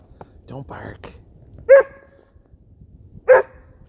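A Newfoundland dog romps in a snowstorm and gives two short, sharp barks spaced apart, close by, following soft hushed speech from a person nearby.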